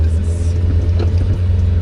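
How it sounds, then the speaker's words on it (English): An old classic car drives along with a steady low engine rumble and a knocking gearbox, the drone close and continuous throughout. "you can hear the gearbox now. Yeah, it's knocking"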